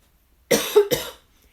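Silence gives way to a close, loud cough in two or three rough, rapid bursts, then it goes quiet again; no speech.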